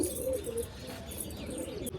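Pigeons cooing softly and steadily nearby as they drink water, a low throaty murmur that continues throughout.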